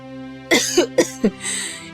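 A voice imitates a cartoon pigeon coughing hard: four sharp, rasping coughs in quick succession over soft background music, ending in a strained wheezy breath.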